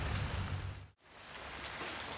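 Heavy rain in a Hitman 3 cutscene pours down as a steady, dense hiss, cutting out briefly near the middle before resuming at a slightly softer level.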